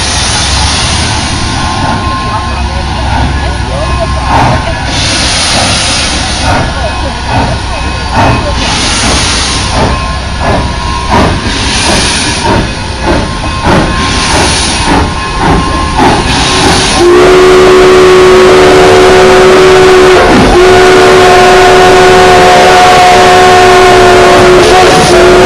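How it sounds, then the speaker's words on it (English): Loud steam locomotive whistles from the Durango and Silverton railroad at a railfest, several long blasts sounding nearby, ending in a sustained steady whistle tone, with voices of onlookers in the background. "They're loud, the whistles."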